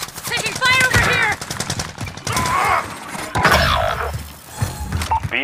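Call of Duty Warzone gameplay with an AR QBZ-83 in a firefight: loud bursts of automatic gunfire and impacts crackle throughout, with short pauses between volleys and game voices or effects mixed in.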